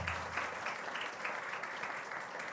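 Steady, dense applause from a large audience at a 19 May youth gathering in Istanbul, following a performance of a march; continuous clapping throughout at moderate level with no talk.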